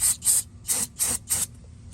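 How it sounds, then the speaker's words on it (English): Brake cleaner sprayed onto a VW Jetta brake caliper in five short hissing bursts of uneven length, close and sharp, with brief quiet gaps between them. "Spray some brake clean."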